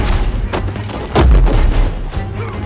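A shotgun blast in Paint The Town Red, a few heavy booming shots close by amid the chaotic brawl, with little talk.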